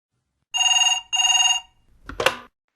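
An office telephone rings for an incoming call, two even electronic bursts with a short gap, loud and clear, followed by a brief rustle or handset pickup noise.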